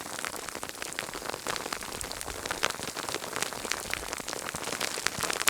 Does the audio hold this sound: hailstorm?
yes